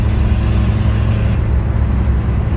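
Mitsubishi L200 pickup engine under full throttle, a loud, steady low rumble and whir heard from close by with no talking.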